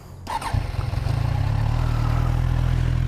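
A 2014 Kawasaki Z1000 motorcycle engine with dual exhaust cranks and fires up, then settles into a loud, steady, throbbing idle close by.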